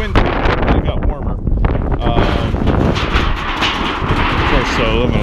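Strong wind buffets the microphone on a drive to a scrapyard, a loud steady rumbling roar that fills the whole clip.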